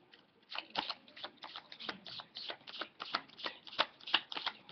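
Playing cards being handled and shuffled at close range: a quick series of crisp riffling and slapping sounds, soft and uneven in rhythm, with no talking.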